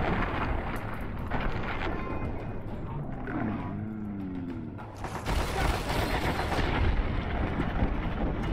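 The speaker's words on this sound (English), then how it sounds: "I got 3 shotgun shots right here" Shotgun shots in the game Fallout, Tale of Two Wastelands mod, come as heavy booming blasts amid loud continuous game clatter and mechanical noise, with a brief voice present.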